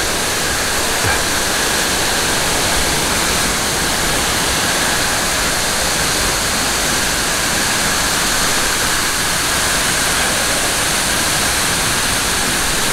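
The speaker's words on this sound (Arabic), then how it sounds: "واتر فول في غابة" A forest waterfall in Dalat, Vietnam pours with a dense, steady roar of falling water, loud and close, holding even and unbroken from start to finish with no voices over it.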